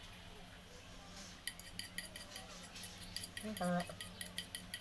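A utensil stirs three eggs into a shrimp okoy batter in a bowl, with quick scraping clinks against the dish in a busy rhythm and a louder knock near the end, under brief talk.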